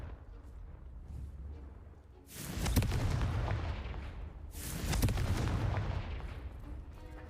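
Two heavy booming blasts from the Confringo fire spell in Hogwarts Legacy, each a sudden loud explosion that rumbles and fades over a couple of seconds, over a low ambient drone.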